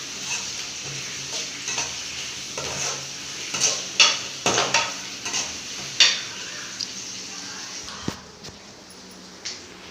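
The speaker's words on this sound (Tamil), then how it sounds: "ஒரு ஆனியன் வந்து நல்லா பொன்னிறமாக வறுத்துக்கலாம்." Onion frying in a pan until golden brown for chicken gravy, with a steady soft sizzle and irregular spoon scrapes and clinks against the pan, close and unaccompanied by talk.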